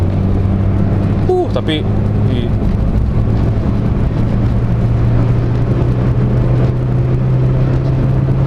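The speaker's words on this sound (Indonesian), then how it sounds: "RPM awal tuh udah cukup bertenaga, tapi udah begitu di 4000-an, RPM-nya udah mulai cukup ngap gitu mesinnya untuk menghela ke RPM yang lebih tinggi lagi" A car engine drones steadily at higher revs under continuous talk from a man, with a brief squeak and clatter early on.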